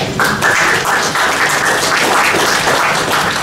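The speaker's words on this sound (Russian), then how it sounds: "Я расцениваю сейчас аплодисменты, которые тебя наградила публика" An audience at a live marketing talk breaks into steady, dense applause that fills the room and runs continuously without a break.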